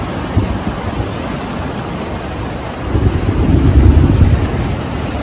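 Low thunder rumbles through steady rain outdoors near Bhogwe beach in Malvan, swelling louder midway through, with wind buffeting the microphone and no voices.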